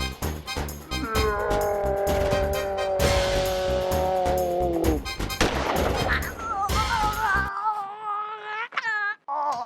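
Gunfire in a staged fake police encounter from a Hindi comedy skit: loud, sharp bangs within a busy sound-effects mix of whining, sliding tones and screeching, ending in quieter warbling effects.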